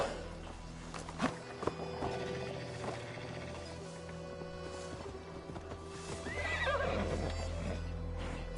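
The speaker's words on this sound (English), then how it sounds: "Where did that horse come from?" A horse in the video game Assassin's Creed Valhalla clops along with a few distinct hoof thuds, then whinnies near the end over a low steady game ambience.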